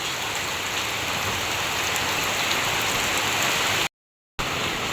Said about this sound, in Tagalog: malakas na po ngayon ng ulan